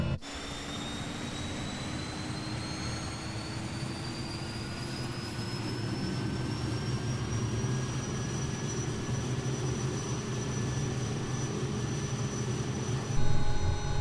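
A steady turboprop whine from an SWS Kodiak bush plane engine at low idle in a flight simulator, a constant loud drone with high rising tones and a brief thump near the end.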